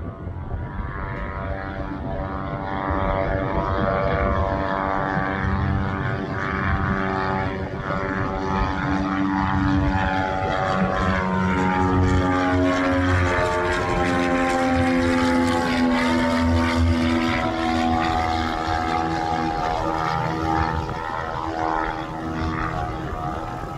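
Light aircraft with a Lycoming IO-360 engine on its first flight, heard from inside: a loud, steady propeller drone and engine roar with slowly shifting harmonic tones throughout, no talking.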